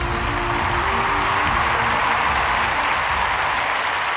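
An awards-show audience applauds steadily, a dense, even patter of many hands clapping with no pauses, loud and continuous throughout.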